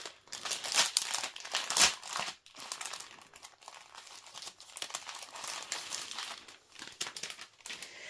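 A plastic bag being opened, crinkling and rustling continuously with sharper crunchy bursts, close and fairly loud throughout.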